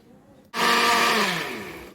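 A blender mixing cake batter whirs on abruptly after a brief quiet moment, running loud and steady for over a second, its motor pitch sagging slightly as it churns.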